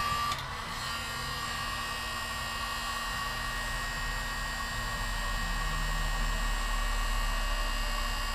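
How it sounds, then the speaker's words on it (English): A heat gun blows steadily with a loud, constant whirring hiss and an electric hum for the whole stretch, and no voice is heard. "Heat gun will make it a lot easier to finish this up."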